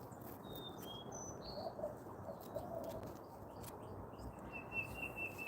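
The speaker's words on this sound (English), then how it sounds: "These are sun conure parrots." Sun conure parrots give several faint, high, thin chirps and short whistled calls, scattered across a soft, steady background hiss.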